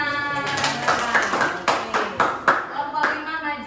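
A group claps in a loose, uneven burst of rhythmic hand claps, close and fairly loud, with voices mixed in underneath.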